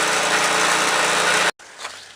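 A small, worn-out tractor engine runs with a steady buzzing drone for about a second and a half, then cuts off abruptly, leaving faint background noise.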